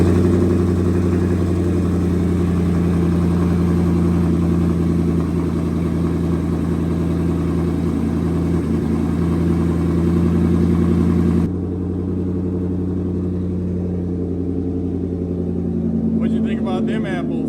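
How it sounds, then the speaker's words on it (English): A twin-turbo Ford F150 with an ON3 turbo kit and a new exhaust idles with a deep, steady rumble, loud and close, before the sound drops off abruptly. "you can hear the new exhaust on this thing"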